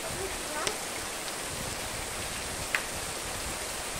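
Heavy rain in the northeastern Brazilian sertão pours steadily as a dense, even hiss, with a couple of brief sharper drips or knocks standing out from the constant downpour.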